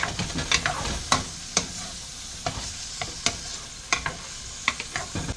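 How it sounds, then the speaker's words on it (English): Vegetables are stirred into shrimp fried rice in a pot: soft, steady sizzling underneath, punctuated by repeated sharp scrapes and taps of a spoon against the pot at an irregular rhythm. "Now I'm going to be adding my vegetable. Mix that in with everything else that's in this pot here."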